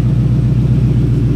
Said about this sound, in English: That's the last rev ups with the header dumps